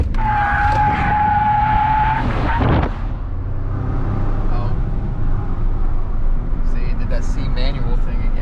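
Ford F150 pickup with an EcoBoost engine held on the brake, revving loud and close with a steady droning note and a rising whine as boost builds, while people talk over it.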